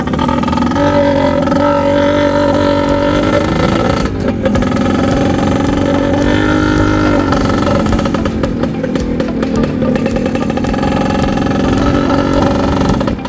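A Yamaha Mate 100 motorcycle, restored with genuine parts, runs on a test ride with a loud, close, continuous engine drone that shifts pitch gently as it accelerates and eases off, with no voices.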